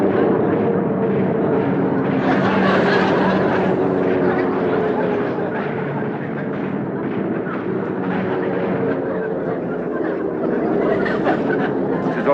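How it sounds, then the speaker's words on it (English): A single plane makes a daylight pass, a loud, steady rumbling roar that swells and sustains throughout with dense low-mid noise, resembling a wartime aircraft flyover with possible gunfire mixed in. "A single plane making a pass in broad daylight"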